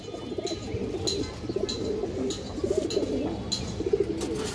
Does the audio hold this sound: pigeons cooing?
yes